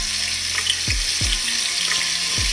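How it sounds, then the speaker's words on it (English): Battered shrimp frying in hot oil in a home kitchen, a steady loud sizzle and crackle with a few low thumps of the pieces shifting in the pan, and no voices. "Now we're not going to let these fry for too long"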